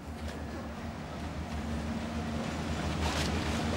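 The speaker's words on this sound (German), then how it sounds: "da kommt eine kleine Barkasse vorbeigedengelt hier vorne" A small motor launch (tugboat) speeds past on the water, its engine a steady low drone with a faint tonal whine, mixed with wash and wind noise, continuous and fairly close throughout.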